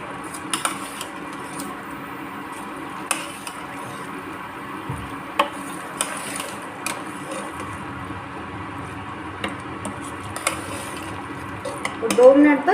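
Potatoes and peas being mixed in a pan for aloo matar masala, with repeated spoon knocks and scrapes against the metal over a low steady background and a brief louder rustle at the end.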